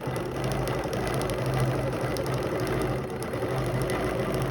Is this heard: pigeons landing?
no